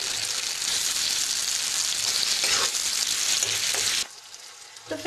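Loud, steady sizzling of spices and tomato tempering in hot oil for baingan bharta, with a faint stir partway, then the hiss suddenly drops to quiet near the end.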